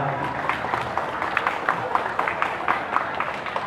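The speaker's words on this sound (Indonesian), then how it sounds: "Tepuk tangan sekali kepada panitia" Steady applause and clapping from an audience at the closing ceremony of a Quran recitation competition in Gampong Baroh, Langsa Lama, sustained with crowd murmur and no speech over it.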